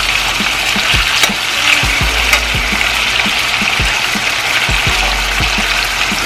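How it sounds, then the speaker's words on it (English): Chicken pieces fry in hot oil for Jamaican brown stew chicken, a loud continuous sizzle with occasional pops and crackles throughout, no voices. "don't want to over fry our chicken."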